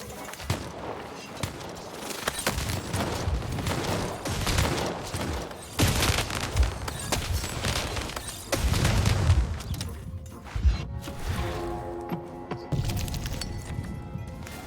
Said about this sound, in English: Oh my god, so much shooting going on